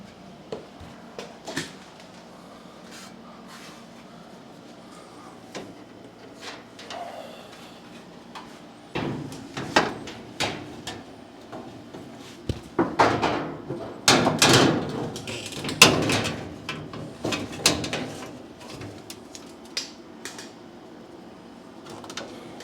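Fitting the front cover onto a Whirlpool Cabrio Platinum dryer gives scattered clicks, knocks and plastic-and-metal clunks, sparse at first and then a denser cluster of firm snaps and thumps close by.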